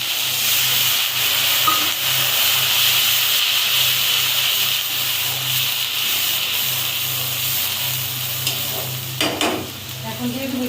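Water poured into ginger-garlic paste in hot oil hisses into a loud, steady, broadband sizzle that holds without letup, with faint stirring scrapes near the end.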